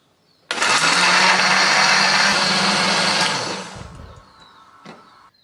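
A blender motor roars loudly for about three seconds as it grinds spices with a little water, then winds down and stops, leaving a few faint clinks afterward.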